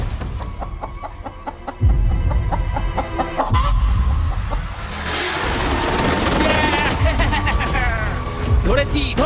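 A freshly caught chicken on a deserted island clucks loudly in bursts while people talk excitedly over it, with a low engine-like rumble underneath.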